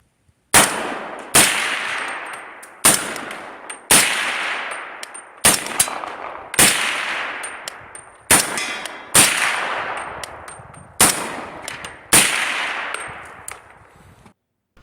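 About eleven rifle shots fired from a 10.5-inch barrel through a dry Dead Air Sandman-K suppressor ring out as sharp, loud, metallic cracks, each with a short decaying tail, spaced roughly a second apart.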